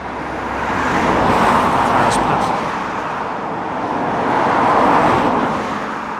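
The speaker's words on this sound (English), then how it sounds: "Sorry about the noise, we're on a busy road." Continuous roar of road traffic, with cars swelling past in waves close by, loud and steady.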